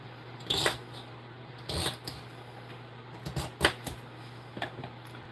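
A knife chops raw celery on a cutting board with sharp, crisp crunching cuts, a few single chops and quick clusters, near and fairly quiet under a low steady hum.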